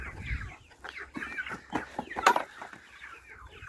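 Chickens cluck softly and intermittently at close range, with scattered pecking taps and a louder squawk midway.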